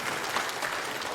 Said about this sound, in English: you know you're not supposed to applaud in synagogue, right?